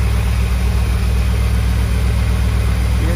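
A Ford 460 V8 with headers idles in a 1978 F-250 4x4 highboy pickup, a steady, loud low rumble held close and even throughout with no voices.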